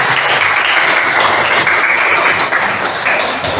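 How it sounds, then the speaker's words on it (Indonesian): Loud, dense applause fills a room during an academic supervision workshop session, a continuous wash of many hands clapping close by for a participant. "Tepuk tangan untuk Mas Taufik."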